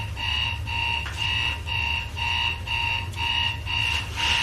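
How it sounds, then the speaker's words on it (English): An alarm clock rings in a bedroom where a woman sleeps. It gives a loud, steady electronic beeping in even pulses of about two per second and keeps going without a break, with no voices over it. "when we hid the alarm clocks all over her bedroom"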